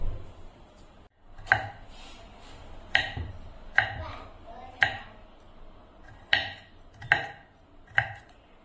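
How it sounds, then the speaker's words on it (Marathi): Peeled coconut flesh being cut into small pieces with a knife on a board, about ten sharp separate chops at an uneven pace, close and clear over a quiet background. "आता आपल्याला हे कट करून घ्यायचे"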